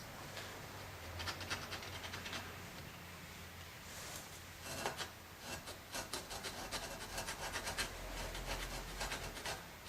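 Dry, caked carbon being scraped off a Harley-Davidson Ironhead cylinder head, heard as a steady run of close, rough rasping strokes with sharper scraping bursts in the second half.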